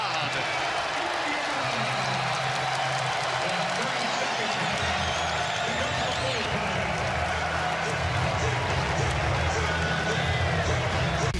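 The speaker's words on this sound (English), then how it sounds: "Here comes the crowd." A home crowd at an Indiana vs Maryland college basketball game roars and applauds in a big indoor arena, a dense, sustained wall of cheering that swells louder toward the end.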